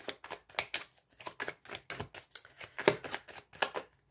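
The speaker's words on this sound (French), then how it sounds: "j'ai remélangé les cartes" Tarot cards being reshuffled by hand, a quick run of crisp riffling and slapping bursts in steady rhythm, close and clear with no talking.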